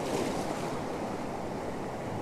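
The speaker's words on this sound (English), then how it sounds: "I'm just going to wait for a wave to come in, get some water movement" Surf rolling in at Currumbin beach on the Queensland coast, a steady broadband wash of breaking waves with some wind, continuous and fairly close, no voices.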